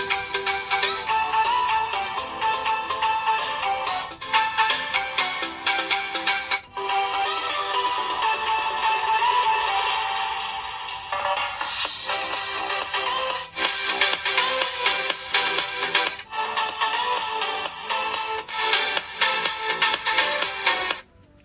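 Music played through the loudspeakers of an Honor 9X Pro and a Poco X2 phone, loud and continuous with brief gaps where playback switches between the handsets, no talk.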